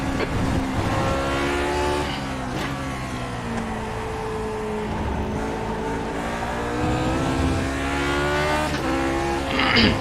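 A vintage Grand Prix Legends race car roars around Donington in the iRacing sim, its engine note rising and falling through gear changes, loud and continuous with brief tire squeal.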